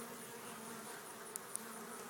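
Honey bees buzzing steadily during a hive inspection, a continuous close drone with a few brief sharp clicks near the end.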